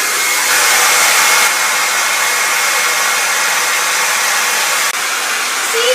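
A hair dryer blows steadily and loudly at close range, melting crayons onto a canvas, with a brief dip in the airflow near the end.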